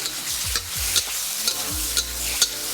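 Steady sizzling of shiitake mushrooms frying in a wok, with regular scraping clanks of a spatula stirring about twice a second, close and fairly loud.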